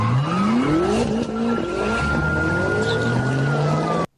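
Several BMW cars drift along a public road during a wedding convoy, tires squealing loudly and engines revving in long sweeping pitches, a continuous close roar of screeching rubber and accelerating motors.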